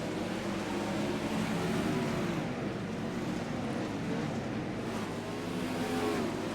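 Dirt track race cars battling for position at Cedar Lake, a continuous distant engine drone with rising and falling revs layered over one another, fairly faint and steady throughout.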